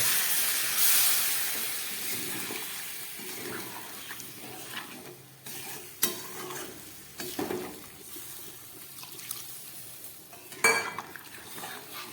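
Water goes into a pan of spiced jackfruit and potato curry, setting off a sharp hissing burst at first, then softer simmering with occasional metallic clinks of a utensil against the pan.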